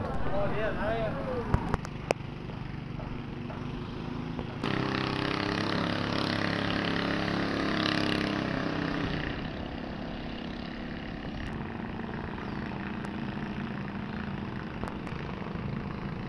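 A long-tail boat engine runs at a riverside pier, a steady mid-pitched drone that swells for a few seconds mid-clip, heard beneath continuous talking.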